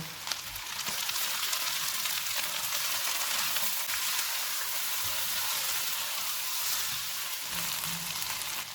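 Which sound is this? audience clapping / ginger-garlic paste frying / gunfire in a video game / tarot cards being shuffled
ginger-garlic paste frying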